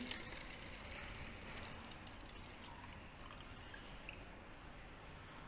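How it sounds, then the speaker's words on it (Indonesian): Water poured from a cup back into a bottle during a measuring demonstration, a steady close trickling pour that runs continuously and fairly quietly with no speech. "Sekarang saya kembalikan air ke sini lagi."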